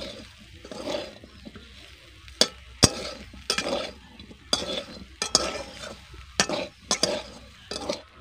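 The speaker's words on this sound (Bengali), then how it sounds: "সজনে ডাঁটার সঙ্গে লঙ্কার গুঁড়োটাকে কিন্তু আমি ভালো করে মিশিয়ে নিয়েছি" Drumstick pieces coated with chili powder are stir-fried in a pan, with a soft sizzle beneath repeated sharp scraping clicks and clinks of a utensil against the pan in an irregular rhythm.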